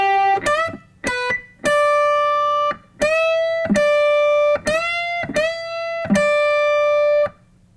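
Electric guitar string bends from a solo, a run of sharply picked overdriven notes, some bent upward in pitch and others held straight, played close and loud with short gaps between.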